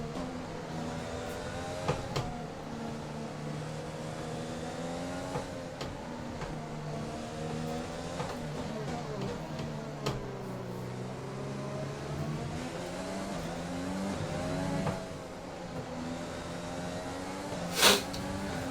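Race car engine in F1 2020 at a wet-weather Vietnam circuit, droning steadily with shifting pitch as the throttle rises and eases, close and continuous with a brief sharp click near the end.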